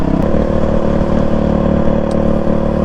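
Honda CRF450X dirt bike engine running close by in hot, very windy conditions, a loud, dense, steady mechanical roar with rapid firing pulses and no pauses.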